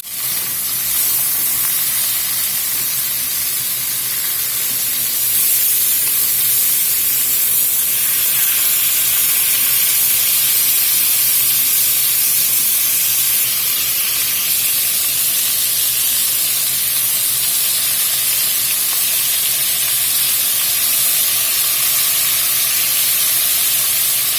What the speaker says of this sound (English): We're going to sear this up on all sides.